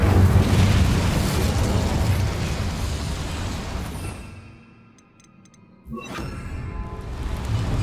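An Incendio fire spell cast in Hogwarts Legacy, a loud roaring burst of flame that fades into near quiet before a sharp crackling flare rises again, with no voices.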